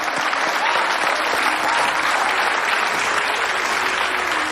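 Studio audience applause on an Indonesian TV talk show, a steady, dense wash of clapping that holds loud and even for the whole stretch with no voices over it.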